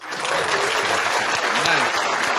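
A short burst of applause from a small group at a 49ers postgame podcast gathering, dense and steady clapping that stays loud throughout, with no talk over it.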